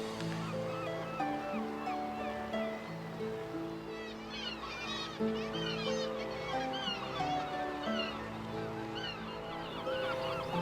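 A busy seabird colony of razorbills, cormorants and guillemots on a sea stack off a remote northern Scottish coastline fills the air with layered, continuous calls, with a steady wash of sea beneath and a faint voice over it.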